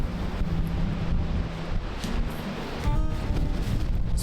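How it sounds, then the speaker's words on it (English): Wind buffets the microphone on a cloudy open beach while ocean surf rolls underneath: a steady, close, rough roar with no speech. "Just watching the waves."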